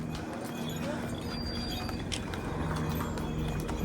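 Horses walking a mountain trail toward Kedarnath, with a steady stream of soft hoof clip-clops under a constant wash of outdoor noise, while people talk faintly nearby.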